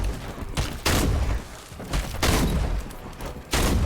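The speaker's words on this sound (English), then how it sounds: "Getting some nice shots off" Gunfire in the horror video game Evil Dead: The Game, with several loud, sharp broadband shots and bursts spaced a second or so apart over a dense, rumbling game-effects bed, with no talking.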